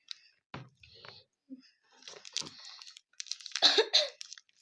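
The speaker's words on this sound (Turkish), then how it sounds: "Böyle öksürmeye başladık." A few short, dry coughs close by, separated by brief pauses, with small mouth and throat noises in between.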